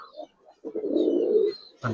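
A single low, rolling coo of a Giribaz pigeon, close and clear, lasting about a second between brief quieter sounds.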